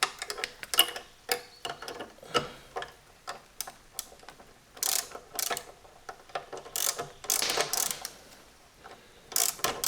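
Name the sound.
7/16 wrench tightening a nut on a motorcycle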